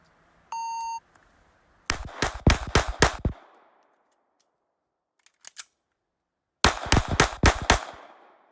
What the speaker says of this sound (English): the third course of fire is 5 shots, reload, 5 shots